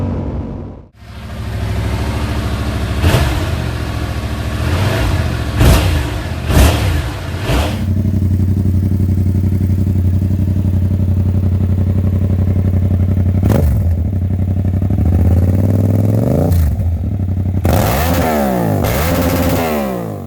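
A 2022 Yamaha R7 motorcycle with a Two Brothers full exhaust idles with a loud throaty note, then revs sharply several times, rising and falling, with more revving bursts toward the end.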